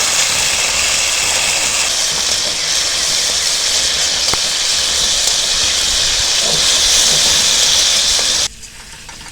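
Chopped tomato and spices sizzling in a hot pan, a loud, steady, dense hiss held evenly for about eight seconds before cutting off abruptly.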